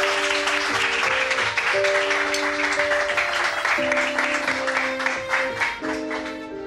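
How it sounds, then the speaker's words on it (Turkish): Applause for a manager arriving at a gathering in a Turkish television drama, with steady clapping under sustained tonal music that runs throughout. "Bir alkış alalım arkadaşlar."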